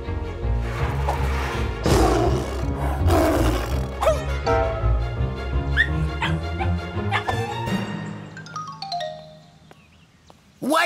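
A cartoon lion roars loudly and repeatedly in a kids' animated show, with bursts of growling over a busy music-and-effects bed before it drops away near the end.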